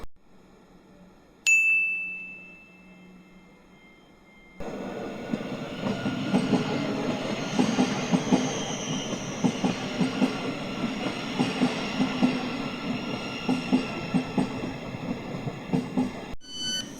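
A Thameslink train under automatic operation rumbles steadily along the rails with rhythmic clacking, after a chime and a quiet stretch; loud and close, as if heard from inside a carriage.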